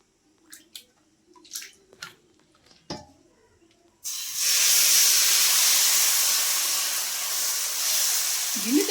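Jowar flour dosa batter with oil and onion hits a hot pan on a low flame and breaks into a loud, steady sizzling hiss that continues to the end, after a few quiet kitchen clinks.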